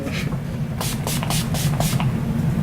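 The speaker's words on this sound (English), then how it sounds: "we're going to spray one more time" Several quick bursts of fine makeup setting spray mist hiss out close by, one after another in a rapid rhythm.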